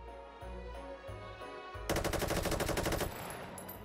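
Full-auto fire from a bullpup rifle in the VR shooter Hot Dogs, Horseshoes & Hand Grenades, a single rapid, evenly spaced burst of about a second, close and crisp over a background music bed.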